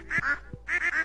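A duck in a farm coop in the Stardew Valley video game gives two bursts of nasal quacks separated by a short pause, close and clear with no talking.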